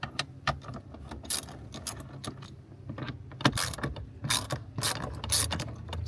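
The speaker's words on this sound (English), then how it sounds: "So just like so, should be able to remove all 10mm bolts." Ratchet wrench loosening 10mm bolts on Toyota Tacoma radio brackets, a close series of quick metallic clicks and bursts of ratcheting in irregular spurts, fairly quiet and alone.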